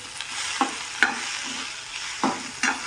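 Garlic and ginger sizzle in hot oil with a steady close hiss, broken by several soft scraping stir strokes at irregular intervals.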